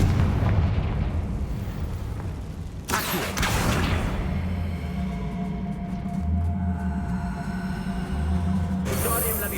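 Fire-spell explosions boom in Hogwarts Legacy amid continuous loud game combat rumble, with sharp bursts near the start of the fight and again toward the end.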